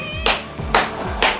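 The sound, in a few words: cat meowing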